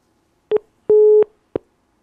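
Telephone line tone on a radio call-in program, heard as three separate tone bursts: a short beep, a longer steady tone of about a third of a second, and another short beep, each followed by silence.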